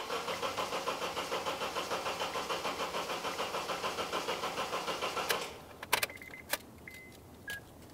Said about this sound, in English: The next thing we'll do is start up the vehicle.